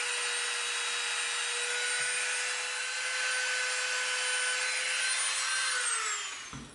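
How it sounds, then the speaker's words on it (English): A Dremel rotary tool fitted with a thin bit whirs at a high, steady pitch while marking rivets into EVA foam, with faint scraping contact, then winds down at the end. "We're going to come in with our thin bit and our Dremel, and we're going to make a little rivet mark on all 4 of those spots"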